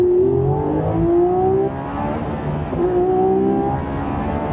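A Lamborghini Revuelto on a race track, its engine climbing steeply through the revs in rising sweeps, dropping sharply on each gear shift and then winding up again, loud and close throughout.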